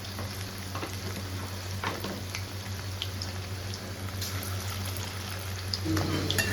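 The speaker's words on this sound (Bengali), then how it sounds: "আর এখন বড়াগুলো মানে পকোড়াটা ভেজে নেব।" Chicken pakoras for chilli chicken deep-frying in hot oil, giving a steady close sizzle and crackle with a low hum underneath and a slight rise near the end.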